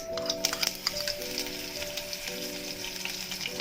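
Green chilies crackle and sputter steadily in hot oil with mustard seeds and cumin, a dense patter of pops over a faint, steady tonal hum in a home kitchen.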